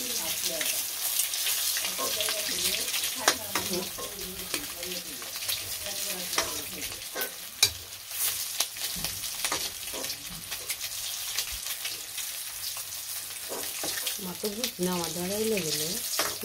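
Potatoes and bitter gourd frying in a home kitchen pan give a steady low sizzle with occasional scraping stirs, fairly quiet, while a voice talks intermittently over the cooking.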